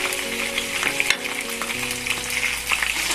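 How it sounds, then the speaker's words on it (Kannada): Masala and tomato-based kadai paneer fries in a kadai, giving a steady, close sizzle with a few stirring scrapes and clinks and no voices. "ಇದು ಫ್ರೈ ಆಗ್ತಾ ಇದೆ"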